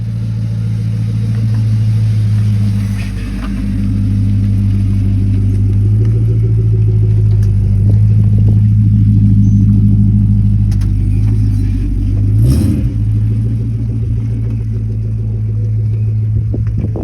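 A Ford Mustang's engine drones steadily from inside the car while driving on the road, a loud continuous rumble with a brief surge near the end.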